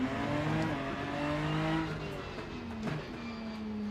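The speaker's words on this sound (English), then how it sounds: "Nurburgring, it's got a very metallic-y whine to it" Race car engine in the Rennsport video game at the Nurburgring, a steady metallic whine holding near-constant pitch, with a brief dip and shift in revs partway through.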